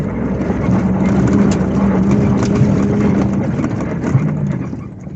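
A V8-swapped Toyota Hilux climbs Sani Pass in two-wheel drive, its engine a loud, steady low drone held under sustained load, with a faint voice briefly audible beneath it.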